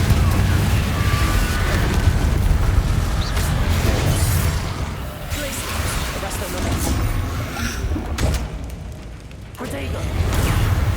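Confringo blasting spell in a wizarding video game, booming explosions with rumbling low impacts over a busy background, voices talking throughout.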